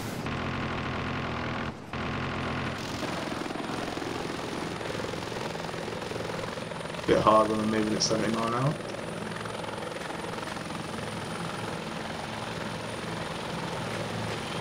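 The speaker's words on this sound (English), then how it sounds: "Got a visual on your chopper" Helicopter rotor and engine drone steadily in an Arma 2 combat game, a continuous whir running through the whole stretch with a brief louder burst midway, while someone talks over it.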